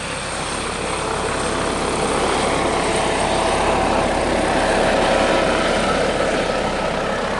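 A rescue helicopter hovers over a mountain ski-touring route during a crevasse-fall rescue, its rotor and engine a loud, close, continuous drone throughout.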